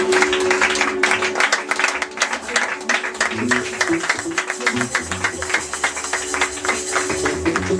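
A church congregation claps and applauds in a dense, continuous patter of many hands, fairly close, with a sustained tone and some voices underneath throughout.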